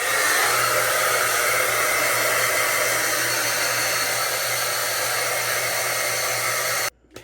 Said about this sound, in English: We're gonna blow dry my hair and then we'll get into the curling.